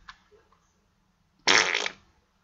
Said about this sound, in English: And fart.